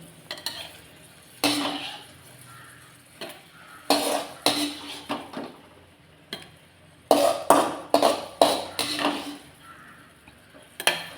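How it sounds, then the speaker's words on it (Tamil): Cooked tomatoes with their oil are scooped into a mixer jar, giving bursts of scraping, clattering spoon and pan knocks separated by quiet pauses, close and fairly loud, with no talk. "இதில் இருக்கிற எண்ணெயோடையே நம்ம மிக்சி ஜாரில் சேர்த்துக்கலாம்"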